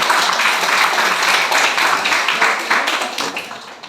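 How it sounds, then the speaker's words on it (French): A church audience claps to welcome a guest, producing loud, close applause with many overlapping hand claps that gradually thin toward the end. "On peut applaudir pour accueillir."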